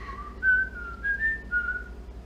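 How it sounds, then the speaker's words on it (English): A person whistles a short, simple tune, a few clear sustained notes gliding up and down at a moderate volume, with a faint steady hum underneath. "what about that whistle?"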